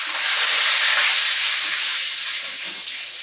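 Curry leaves hit hot oil already seasoned with mustard seeds, cumin and asafoetida in a wide pan over a wood-fired stove, giving a loud, steady sizzling hiss that eases slightly toward the end, with no voices.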